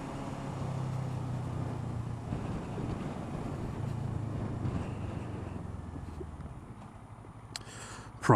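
Outdoor wind buffets a microphone on a cold day, a continuous low, rough rumble with gusty swells that eases off toward the end before a sharp bump.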